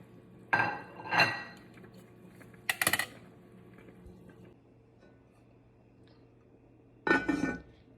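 A metal lid is set on a pot of simmering pinto beans and pork, giving a few close, sharp clanks and rattles in bursts, with quieter stretches between.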